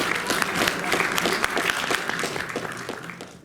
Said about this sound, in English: Donc sous vos applaudissements s'il vous plaît, Sandra Luce.